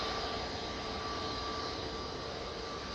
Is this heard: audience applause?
no